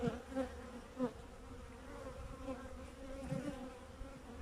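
Honeybees buzz in a steady, low drone close by at a hive, with a few louder swells as individual insects pass near.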